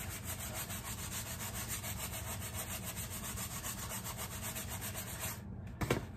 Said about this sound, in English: We'll take the big scrub brush.